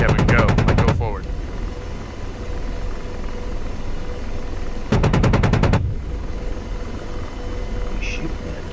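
The gun of an AH-64D Apache helicopter in the DCS World combat game fires two short, rapid bursts with a steady rotor and engine drone underneath.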